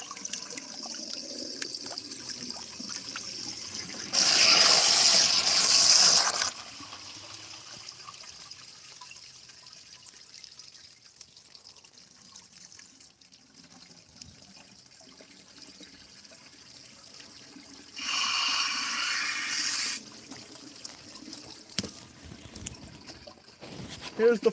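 Water rushes and trickles into a toilet cistern, with two loud bursts of gushing flow separated by quieter dribbling and refill hiss, close by.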